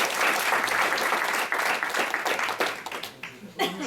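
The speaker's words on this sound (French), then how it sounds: "on peut l'applaudir hein, s'il vous plaît." Audience applause for a presenter at a tech talk, loud dense clapping that thins into scattered claps and fades, with some chuckling and voices near the end.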